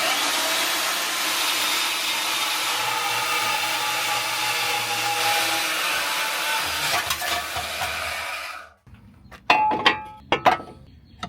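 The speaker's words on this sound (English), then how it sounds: "I'm going to try the bandsaw. I don't know if that's the best way to cut this." A bandsaw cuts through the steel frame rail of a BMW G80 M3, a loud steady whining grind that runs for about eight seconds, then stops abruptly, followed by a few clanks of metal.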